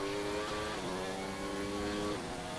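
An F1 car in F1 2019 accelerates on a racing video game track, its steady engine tone climbing through rising harmonic bands, loud and continuous with no talk.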